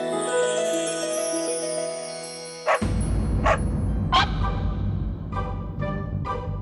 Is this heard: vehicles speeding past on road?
no